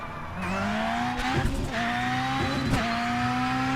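A Formula Neagle race car in iRacing drives at the Nürburgring, its engine droning steadily up close. Two brief bursts of tire squeal cut in as it shifts through the gears, and nobody speaks.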